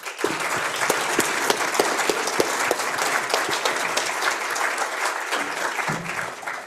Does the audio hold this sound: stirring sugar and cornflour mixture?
no